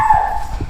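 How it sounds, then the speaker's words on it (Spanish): A small dog barks indoors in a short burst of a few yaps, close and moderately loud, with no talk over it. "como siempre mi perrita y sus exabruptos"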